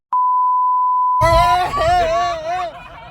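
A steady high-pitched censor beep tone sounds alone, then continues faintly as voices start talking over it.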